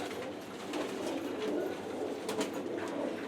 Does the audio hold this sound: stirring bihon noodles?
no